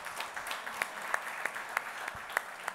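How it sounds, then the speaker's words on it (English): An audience at an awards dinner applauds its dinner entertainment, steady moderate clapping from many hands with a few sharper individual claps standing out, heard at some distance. "give our entertainment for the dinner a huge round of applause"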